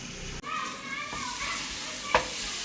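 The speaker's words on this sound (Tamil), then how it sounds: "இது நல்லா சாட் பண்ணிக்கோங்க." Garlic and cumin seeds sauté in hot oil with a soft, continuous sizzle and light stirring, while faint voices sound in the background and one sharp clink comes near the end.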